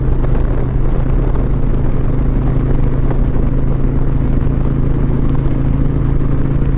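A 2021 Indian Challenger Limited motorcycle ridden fast at full throttle, its engine a loud, constant low drone buried under heavy wind roar against the helmet.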